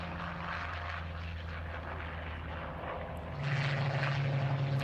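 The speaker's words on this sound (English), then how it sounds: "goes the A-36 off the grass. And the Sky Raiders." A North American A-36 and Douglas Skyraider propeller warbirds take off from a grass airfield at a Duxford air show, their engines droning steadily and swelling louder near the end, with no speech.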